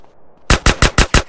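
Loud, close automatic gunfire from GTA San Andreas during a robbery mission, six sharp shots in an even rapid burst that starts abruptly after a brief quiet moment.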